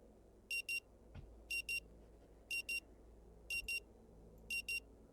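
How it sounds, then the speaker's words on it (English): An alarm on a century-old clock in the video game Rue Valley rings in five evenly spaced double bursts of bright electronic beeping over a low ambient hum, with a single soft thump early on. "The frenetic sound coming from a century-old clock nudges you back to the present."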